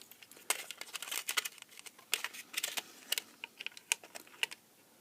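Plastic cover being pried off a 4.5W LED T5 link light fitting, a close run of sharp, irregular clicks, snaps and crinkly scrapes with no talk.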